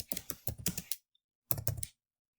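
A computer keyboard clatters as a search is typed, two close bursts of quick keystrokes separated by a short silence, crisp and fairly quiet with no talking.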